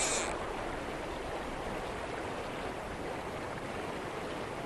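Fast water rushing over a weir on a salmon river, a continuous, dense roar of moderate loudness with an even texture throughout and no voices over it.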